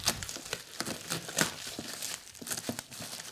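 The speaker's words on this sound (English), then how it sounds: "a really thoroughly well-wrapped box, completely wrapped in bubble wrap. I'm not even sure how to open it, but let's just cut through it" Bubble wrap around a boot box is cut through and pulled apart in a close series of crinkling, crackling bursts with short tearing rustles.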